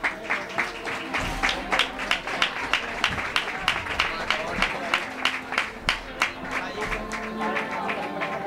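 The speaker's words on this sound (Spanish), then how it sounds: "démosle a Juan Gil un fuerte aplauso" Scattered hand claps ring out from spectators at an amateur football match between CD San Roque and UD Tesorillo, sharp uneven claps over a steady murmur of crowd noise and voices throughout.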